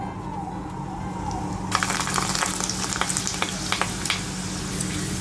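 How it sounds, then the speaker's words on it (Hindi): Nalli fry sizzling in a pan for dinner, a steady broadband hiss that swells louder partway through with scattered crackles and pops, no talking. "अभी मैं कर रही हूँ रात के खाने के लिए ये नल्ली फ्राई"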